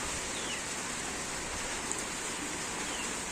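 Steady rain falling outdoors near a garden plot, a dense, even hiss with no distinct drops or pauses, continuous and fairly close for a few seconds with no voices.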